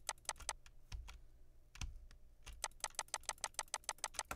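Clicking on a mouse during Minecraft PvP, first a few scattered clicks, then a fast, steady run of sharp taps, close and quiet.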